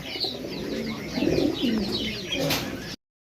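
Pigeons, including a Modena pigeon pair, coo in repeated soft throaty rolls close by, mixed with a few faint chirps and low background noise.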